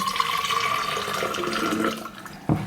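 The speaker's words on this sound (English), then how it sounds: "let me quickly put some hot water in it" Hot water pours steadily into an IKEA BEHÖVD 1-litre vacuum flask, about 300 ml in all. The continuous splashing stream runs for roughly two seconds, then stops, and a single dull knock follows.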